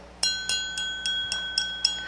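Simulated ultrasound pulses for shallow imaging, a rapid series of eight short bright clicks or pings spaced evenly with brief gaps, heard alone.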